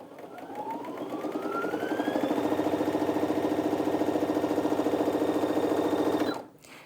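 A Brother Innov-is A16 sewing machine stitches in one continuous run, whirring up to speed and holding a fast, even mechanical chatter for about six seconds before stopping sharply.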